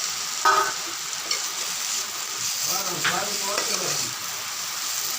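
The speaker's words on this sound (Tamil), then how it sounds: "இது கூட வேக வச்ச கிழங்க போட்டு கிளறணும்" Boiled cassava stirred with browned roasted coconut in a pan for a traditional Tamil maravalli kilangu dish, a steady close sizzle with scraping stir strokes around the middle, no talking.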